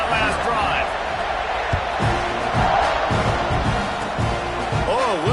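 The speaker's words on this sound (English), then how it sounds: "this crowd is feeling themselves after that last drive" A loud stadium crowd roars and cheers in the College Football 26 video game during a kickoff, a dense constant wall of noise with rhythmic thumps and whistle-like calls, heard under a commentator's voice.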